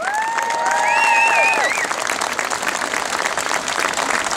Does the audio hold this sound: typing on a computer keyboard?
no